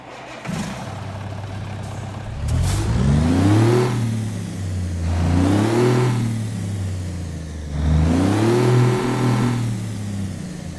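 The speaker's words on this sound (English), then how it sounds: "let's go ahead and listen to this beautiful engine mod." A Cummins NTC Big Cam diesel truck engine in American Truck Simulator idles, then revs up three times in a row, each rise climbing in pitch before dropping back to a rumbling idle.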